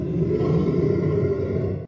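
Monster roar pitched down 17 semitones with added reverb, giving a deep, sustained, growling bellow in a large-room echo that holds steady for nearly two seconds before stopping.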